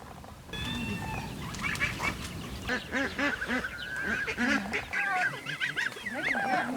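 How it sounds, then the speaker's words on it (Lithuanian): A flock of ducks and geese splashing at a pond quacks and honks in overlapping, busy calls, fairly close, with a steady background hum. "Prie kūdros turškėsi antys ir žąsys."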